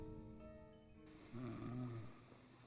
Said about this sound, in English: She's still snoring.